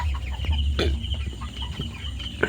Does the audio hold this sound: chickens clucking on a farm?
yes